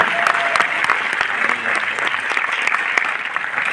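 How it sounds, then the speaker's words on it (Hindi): Audience clapping at a success celebration event in Delhi, steady dense applause from a large crowd heard close and fairly loud for a few seconds with no talk over it. "ताली बजाओ फिर अगर कुछ समझ में आ रहा है तो।"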